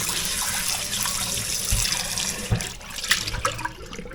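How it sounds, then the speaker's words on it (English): Water runs and splashes while a rusty cast iron skillet is rinsed in a sink, a steady close hiss with a few soft knocks and clunks of the pan. "we're going to take some water and we're just going to rinse this out real good."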